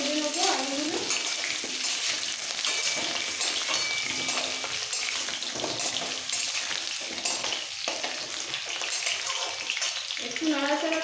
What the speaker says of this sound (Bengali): এবার তেলের মধ্যে একটু ভেজে নেব আলুগুলো।